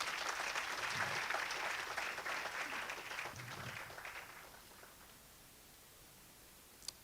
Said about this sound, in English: they deserve another hand of applause.